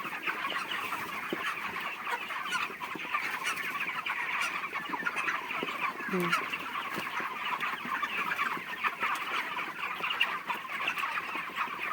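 Many broiler chickens, 36 days old, cluck and chatter continuously in a farm poultry shed, a dense steady flock murmur filling the enclosed space.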